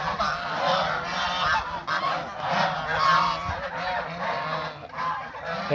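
A flock of white domestic geese walking together honks continuously, close and loud, in a dense overlapping chorus of nasal calls with no pauses and no talk.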